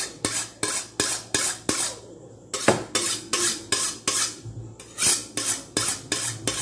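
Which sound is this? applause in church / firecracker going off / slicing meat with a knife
slicing meat with a knife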